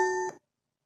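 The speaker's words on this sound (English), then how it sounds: "excuse me, my phone was ringing" A phone rings with a single short electronic tone that cuts off abruptly and is followed by silence.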